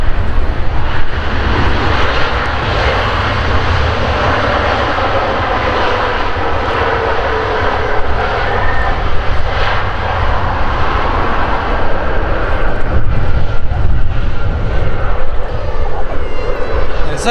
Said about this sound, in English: So as the Qatar 777 taxis off the runway